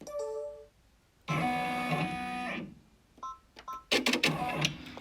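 An embroidery machine stitches an in-the-hoop pleated fabric face mask, its motor giving a loud, whining hum in a sustained burst, followed by shorter stuttering runs and pauses.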